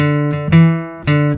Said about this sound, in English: major second sounds like this